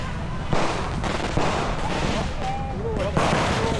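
New Year fireworks at a beach bar on Legian beach in Bali, booming and crackling in a dense, continuous barrage with a few sharper bursts, while people talk and cheer close by throughout.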